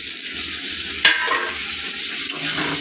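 Chopped tomato fries in a hot pan with a continuous close sizzle, broken by a sharp clatter near the middle and a smaller knock toward the end.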